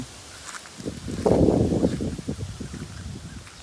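Strong, cool wind gusts across an open rice field, a breathy rushing swell that peaks in the middle and then eases, close to the microphone with faint rustling.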